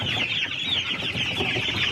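Chickens cluck and chatter continuously nearby, a busy overlapping flock with no talking.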